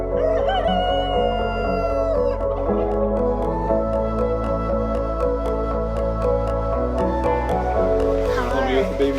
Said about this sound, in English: With the baby rooster.